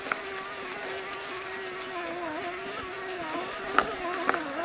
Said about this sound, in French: Là, le moteur chouine.